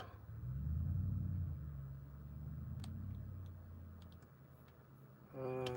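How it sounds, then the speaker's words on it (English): A loud truck rumbles past close by, a loud low drone swelling and slowly fading over several seconds, with no talking. "That guy's truck is loud."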